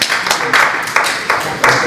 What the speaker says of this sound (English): I'm not used to being clapped